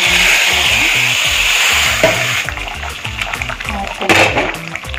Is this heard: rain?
no